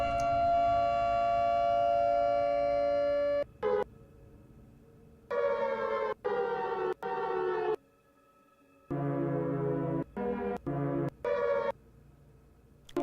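A steady wailing air raid siren tone is chopped into abrupt bursts and gaps, cutting in and out in a stuttering, rhythmic pattern.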